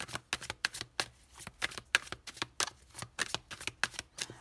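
Playing cards are shuffled and laid out in a quick run of crisp, rhythmic riffling snaps and slaps, close and fairly quiet, with no one speaking.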